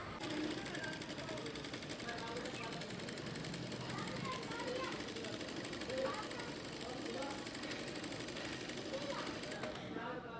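A sewing machine runs steadily for about ten seconds while stitching gathers into a baby gharara, a close mechanical rattling hum with a voice speaking over it.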